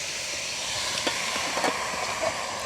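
Fire burning steadily in a village cooking stove at night, a continuous soft hiss and roar with faint crackles and pops, close and even, no voices.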